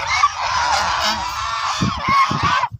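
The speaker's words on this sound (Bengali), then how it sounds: "দেখেন আমার হাঁসগুলো এখন বাড়ির দিকে যাবে, খামারের দিকে যাবে এবং দানাদার খাদ্য খাবে, তার জন্য হাঁসগুলো ছোটাছুটি করছে।" Flock of domestic ducks on a farm at dusk, running home to be fed. They give loud, continuous overlapping honking quacks close by, ending in a few shorter calls.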